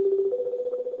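An outgoing phone call plays its ringing tone, a steady electronic tone that pulses evenly for the whole second, clear and alone with no voices.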